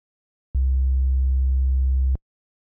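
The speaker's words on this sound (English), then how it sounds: "I'm going to use the sine wave in Ableton's operator." A pure sine tone from Ableton's Operator synth, a steady, clean, loud single note with a few faint harmonics, sounding alone for about a second and a half and starting and stopping abruptly.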